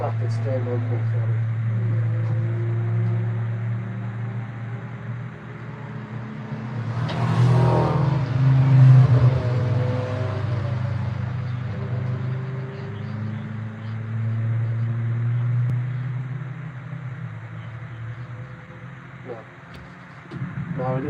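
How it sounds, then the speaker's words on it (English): A Ford Mustang engine, stuck on full throttle after a crash, drones and roars with a steady low rumble that swells around the middle, while people talk over it nearby. "No, it's stuck on full throttle."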